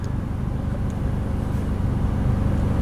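Ford Focus ZX3 engine running at idle, a steady low rumble continuing without change for a few seconds, no speech.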